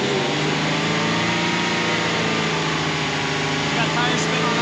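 A Ford truck engine stuck in a rut revs steadily and loudly at close range, a continuous broadband drone with tire spin throughout, no pauses.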